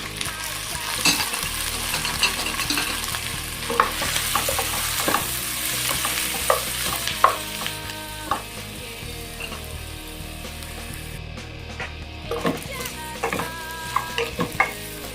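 Chunks of beef sizzle and fry as they drop into a hot stew pot, a steady crackling sizzle with scraping stirs and clinks of a utensil against the pot, close and without talk.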